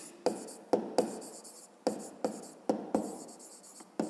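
Pen or chalk strokes setting down a math expression by hand for a 5th-grade problem, a series of sharp taps and short scratchy strokes at an irregular rhythm, close and fairly quiet, with no talking.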